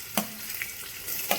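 Onion dropped into hot spices in a pan for Latur-style nilanga rice, giving a brief burst of sizzle and frying with light stirring scrapes and a second sharp hiss near the end, no talk.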